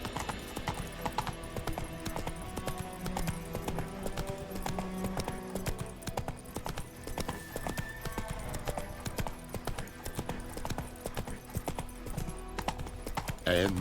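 Horse Roach trots with steady clip-clop hoofbeats through The Witcher 3, set over a constant game music and ambience bed, with an occasional whinny.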